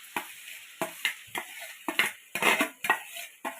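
Roasted taro being mashed and stirred by hand with mustard paste and oil in a bowl, a series of close, soft squelching and scraping strokes in an irregular rhythm with no talking.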